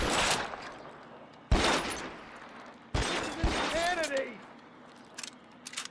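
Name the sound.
gunfire in the video game L.A. Noire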